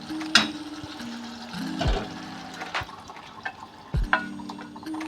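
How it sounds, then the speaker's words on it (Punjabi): Moth dal lentils poured into a hot kadai over a prepared tadka, giving a few brief splashing, sizzling bursts with clinks of a utensil between quieter moments, close and moderately loud. "ਹੁਣ ਅਸੀਂ ਦਾਲ ਕੜਾਈ ਵਿੱਚ ਪਾਉਨੇ ਆ"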